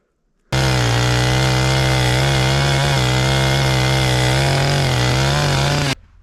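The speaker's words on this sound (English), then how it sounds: "just running my chainsaw back and forth like that, it kind of shaves that down nice" A loud chainsaw starts abruptly and runs steadily at high revs, shaving down wood for a log cabin foundation, its pitch wavering slightly as it cuts, then cuts off suddenly.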